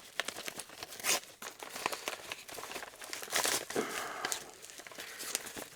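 A paper envelope holding a mailed package is torn open and handled, producing close, loud bursts of crinkling and ripping paper in irregular rustling waves, with no talk.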